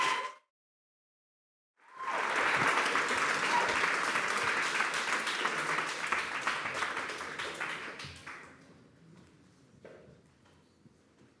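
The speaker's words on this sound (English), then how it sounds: "So a huge last applause here." A large audience at a startup product demo day applauds loudly after a brief pause, the clapping holding strong for several seconds before thinning and fading out at the end.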